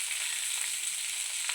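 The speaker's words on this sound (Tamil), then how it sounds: "ஆனியன் ரொம்ப அதிகமாக எடுத்துட்டு நல்லா பொன்னிறமாக வதக்கிடுச்சு." Onions sizzling in hot oil in a pan, cooked down for a Tamil fish curry; a steady, close crackling hiss runs throughout with no talk.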